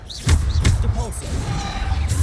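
A Depulso push spell in Hogwarts Legacy lands in a few sharp, thudding impacts with a whooshing swell, followed by lighter magical chimes and rumbles.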